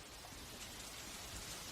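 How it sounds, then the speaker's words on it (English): Steady monsoon rain falling in a Thai tropical forest, a dense continuous hiss of drops on foliage and surfaces, loud and close throughout with no voices. "The monsoon rain feeds the tropical flora and fauna."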